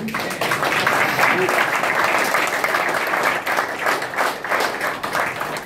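A press-conference crowd at the Barclays Center claps for boxer Gervonta "Tank" Davis, sustained applause from many hands, with faint voices mixed in beneath it.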